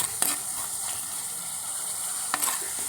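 Masala for a sardine curry being stirred in a pan, a steady close sizzle with scraping strokes of the spoon and a couple of sharper clinks against the pan, no voices.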